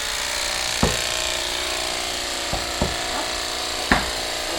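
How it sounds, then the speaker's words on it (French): Electric horse clippers switched on, buzzing in a steady, close, continuous drone with a few soft knocks and taps scattered over the hum, no speech. "D'abord éloigné, en allumant la tondeuse."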